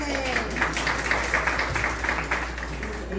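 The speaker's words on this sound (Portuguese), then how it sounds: "Muito bem, palmas, gente." Audience applause at a school literature training session, a quick, even patter of clapping that lasts a few seconds alongside some voices.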